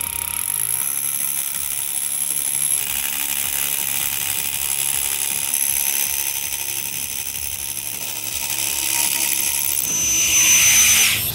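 A power drill bores a straight pilot hole for an undercut anchor, a continuous grinding, whirring drive that rises in intensity toward the end, heard up close without speech.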